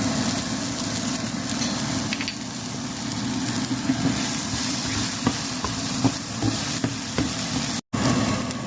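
Bird's eye chilies stir-fried with straw mushrooms in a vegetarian dish, crackling in a loud steady sizzle with scattered spatula scrapes and taps up close.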